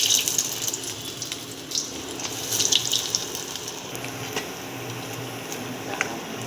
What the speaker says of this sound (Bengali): এই যে তেলটা গরম হয়ে গেছে, এবার আমি দিব, তেলে ভেজে দেব।